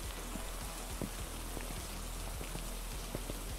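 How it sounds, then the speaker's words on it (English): Rain falls steadily outside a house in the video game Phasmophobia, a soft, even patter with scattered distinct drop taps over a low rumble, faint and without talk. "And it's raining outside?"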